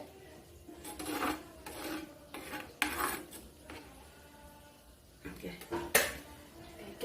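Metal utensil scraping and knocking inside a pot as sardine chilli curry is gently stirred, a close series of irregular clinks and rasps with short pauses between strokes.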